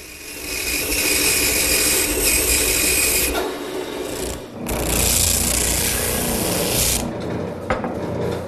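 Wooden handle for a chaise lounge being shaped and rounded at the head end, a close, continuous abrasive rasping with brief pauses and changes in intensity.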